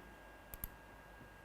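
A computer mouse clicks in a quiet room, two close sharp clicks near the middle and another at the end, faint and alone.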